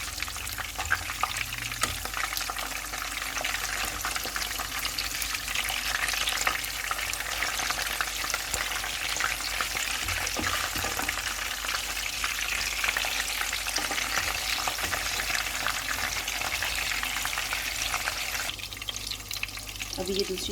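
Raw minced meat kebabs fry in a pan over low heat with a steady, close sizzle that continues for about twenty seconds, with brief speech near the end.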